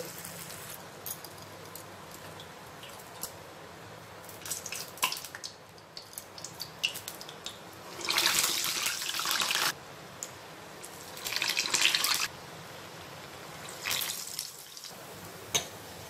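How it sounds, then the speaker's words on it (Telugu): Ginger urad dal vadas go into hot oil, setting off a few loud bursts of crackling sizzle over a quiet, steady frying hiss. "ఇప్పుడు నూనె వేడెక్కిన తర్వాత ఈ వడల్ని ఇందులో వేసేయాలి ఇదే విధంగా అన్నీ వేసేసుకోవాలి"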